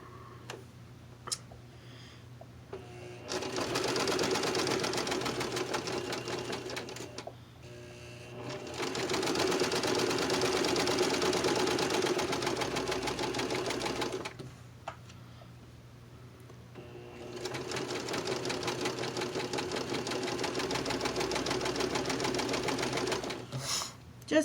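A sewing machine stitching a Halloween placemat runs in three long, steady bursts of rapid mechanical ticking, close and fairly loud, separated by short pauses with faint clicks and handling noises.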